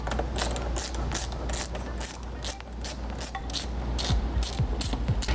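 A ratchet loosens T30 bolts on a BMW E90 front end, with a close series of quick, bright clicking bursts repeating at a regular rhythm.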